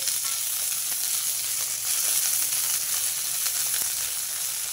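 Dried red chillies and urad dal fry in a pan for a flaxseed spice powder, giving a steady, even sizzle and crackle throughout, close and continuous with no talking.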